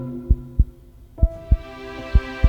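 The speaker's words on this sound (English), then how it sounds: "That's your heart, Princess. When you're happy and healthy, it beats loud and cheerfully." A doctor's stethoscope picks up a heartbeat as a steady run of deep, thudding pulses, close and loud. The beats come in loose pairs over a soft hum, about six thumps in all.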